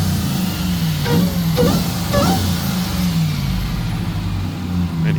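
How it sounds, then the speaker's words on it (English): A Ram TRX pickup's supercharged V8 revs with its stock intake, giving a deep, loud, steady engine rumble with several short throttle blips rising and falling over about five seconds. "Here's some revs before modifying it."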